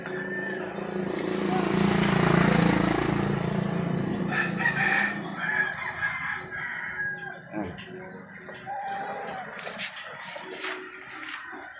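Chickens let out of their coop into the sun crow loudly and cluck nearby, with a long crow early on and scattered clucks afterward over outdoor background noise.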